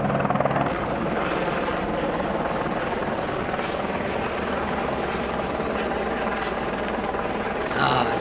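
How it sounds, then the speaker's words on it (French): A helicopter hovers while delivering roof tiles onto a roof, its rotor and engine producing a loud, steady, continuous roar that stays close and unbroken throughout, with no talk over it. "il y a un hélicoptère qui est en train de livrer des tuiles sur un toit"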